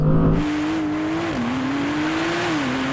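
A Mercedes-AMG GT 63, Audi R8 and Porsche 911 Turbo launch off the line in a drag race, engines roaring loud and sustained with a rising, shifting drone after an initial idle.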